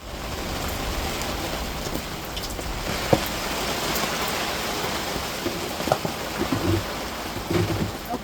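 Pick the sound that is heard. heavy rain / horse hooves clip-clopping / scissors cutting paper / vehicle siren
heavy rain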